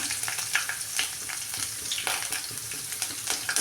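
Mustard seeds and curry leaves fry in hot oil for a Tamil potato poriyal, giving a steady close sizzle with scattered sharp pops and crackles and no talking.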